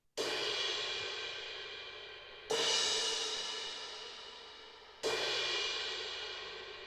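Three struck 18-inch paper-thin prototype crash cymbals ring out alone, each hit bright and washy with a long smooth decay, evenly spaced a couple of seconds apart at close range.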